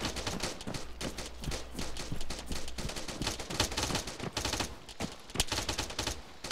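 Rapid volleys of military gunfire in Arma 3, dense overlapping shots and bursts crackling continuously at moderate distance, with no talk over them.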